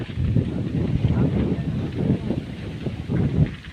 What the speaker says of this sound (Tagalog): Tapos malakas pa yung hangin oh.